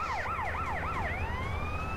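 Fire engine siren in GTA San Andreas, wailing in loud rising-and-falling sweeps, then holding a long steady high tone, close and alone.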